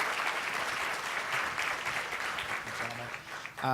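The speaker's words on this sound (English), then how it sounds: "So a nice round of applause." A crowd claps together in a dense, steady round of applause, moderately loud, with a brief voice near the end.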